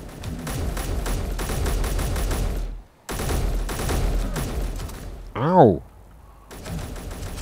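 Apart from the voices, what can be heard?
gunfire hitting the player in the video game Space Engineers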